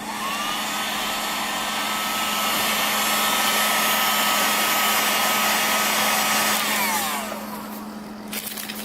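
A heat gun warming tail light adhesive on a Datsun 280Z LED conversion blows with a steady loud whirring roar, rising slightly, then winding down near the end, with no talk.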